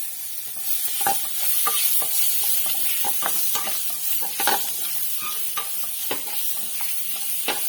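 Onion and capsicum sauté in a kadai for kadai paneer, a steady sizzle with frequent clinks and scrapes of a spatula stirring against the pan, close and continuous.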